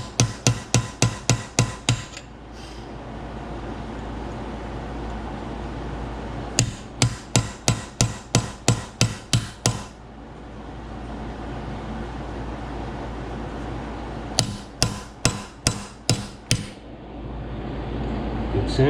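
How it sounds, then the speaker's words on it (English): Hammer taps on the water pump of a Jaguar MKII, struck with a small hammer in quick rhythmic bursts of about six to eight sharp metallic hits, pausing between groups against a steady background hum. "Yes, I could use a bigger hammer, but this is more controllable."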